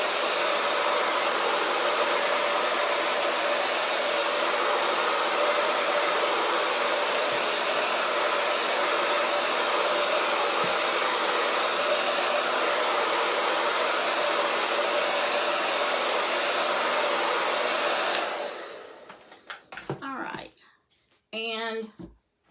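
Hair dryer drying July 4th craft decor, a loud steady rushing blow that runs close and unbroken for most of the clip, then cuts off into a few brief handling knocks.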